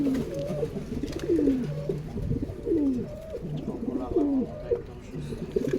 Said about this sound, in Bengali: সব কবুতরই অ্যাক্টিভ।